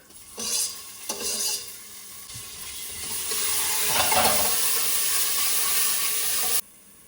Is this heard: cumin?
yes